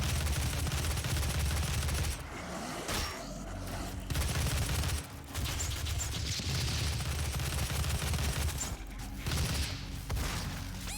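Rapid gunfire from a gun in the video game Doom (2016), loud and dense with bursts of shots and mechanical clatter, continuing almost without pause and briefly dropping out a few times.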